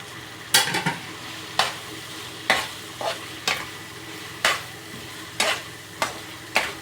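Chicken fries in a pan with a steady sizzle while a utensil scrapes and stirs it in repeated sharp strokes, roughly one per second, close up and with no talking.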